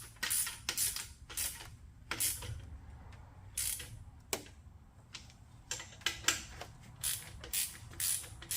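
A ratchet snugs bolts during an LS engine swap in a 1999 OBS truck, giving quick bursts of clicking pawl strokes in an uneven rhythm, close and fairly loud, with no talking.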